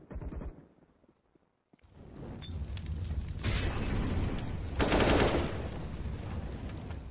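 Rapid rifle spray bursts in a Counter-Strike: Global Offensive pro match on the Nuke map, loud and sustained gunfire rattling for several seconds after a brief quiet gap, with overlapping shots and no speech.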